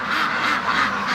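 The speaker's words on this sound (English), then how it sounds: "we're ready to let the ducks out" Ducks quack in a noisy cluster as they are let out, repeated raspy calls overlapping in a steady, close chorus.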